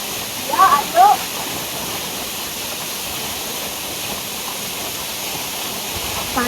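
A waterfall rushes in a steady, loud broadband roar that fills the whole clip, with a brief voice-like sound near the start.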